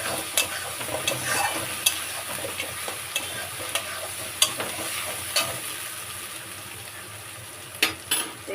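Onion, garlic and ginger fry with turmeric in a pan, giving a continuous close sizzle broken by repeated sharp scrapes and clicks of stirring at an irregular pace.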